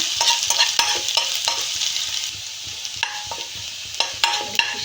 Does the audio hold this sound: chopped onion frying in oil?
yes